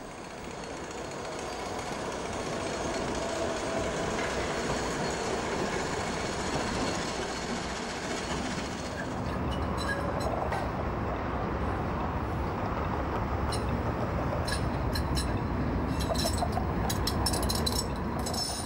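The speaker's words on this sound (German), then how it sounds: "In der Gegenrichtung rollt ein Zug der Tramlinie 4 nach Hutholz." A Variobahn tram rolls through Chemnitz main station with a steady, loud rumble of wheels on rail, followed by sharp metallic clatter and clicks as it passes over the track.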